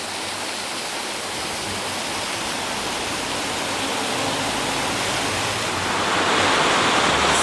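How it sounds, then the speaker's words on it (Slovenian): A waterfall cascading down in stages, fed by melting snow in Nassfeld, gives a loud, unbroken roar of rushing water that swells slightly toward the end, with no voices. "Slap, slapišče."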